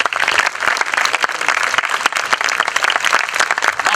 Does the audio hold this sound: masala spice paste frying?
no